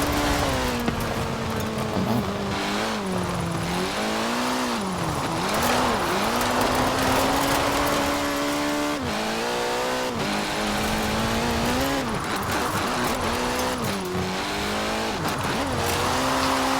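Engine of a drift car in Forza Horizon 4 revving loudly and continuously, pitch rising and falling through throttle changes as tires squeal steadily throughout.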